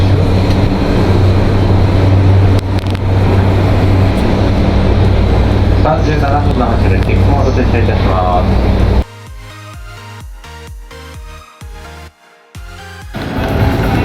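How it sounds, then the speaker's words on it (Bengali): Inside a moving Tokyo train near Shinjuku, a loud steady rumble of the carriage runs under talking for most of the stretch before dropping to quieter, uneven rattling and clatter. "এই উঠে গেলাম ট্রেনের"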